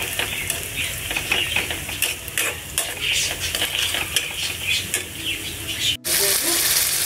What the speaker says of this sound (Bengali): আমি হচ্ছে পেঁয়াজটা ভেজে নিচ্ছি